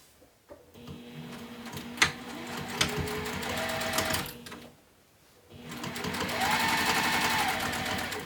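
Sewing machine stitching a fabric bag closed, two bursts of steady mechanical whirring broken by short pauses and a few sharp clicks, close and fairly loud, no talking.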